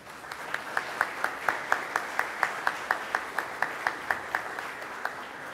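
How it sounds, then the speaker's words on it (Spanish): Audience applause for architect Jorge Arditi at an Expoconstruye event, a steady run of sharp claps about every quarter second over a broad crowd wash, moderately loud throughout. "Nuevamente un fuerte aplauso,"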